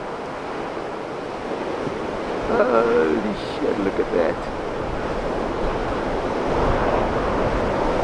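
Ocean surf at Clapton's Reef breaking about two miles out to sea, a continuous roar of waves mixed with wind buffeting the microphone, while a man exclaims over it.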